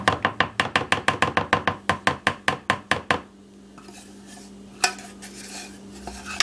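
A utensil works melted chocolate out of a pan for a turtle cheesecake, starting with a rapid, even run of sharp metallic knocks and scrapes, then easing into quieter, scattered scraping with a couple of louder clinks.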